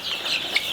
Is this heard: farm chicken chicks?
yes